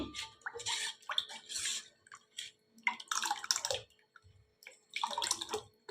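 Water poured into thick rava dosa batter in a home kitchen, heard as several separate splashy, gurgling bursts with short quiet gaps between them, close by.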